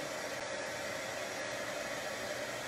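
A hair dryer or heat tool blows steadily while drying white pigment ink on a handmade card, a constant even whooshing hiss that stays at one level throughout, near and with no talking.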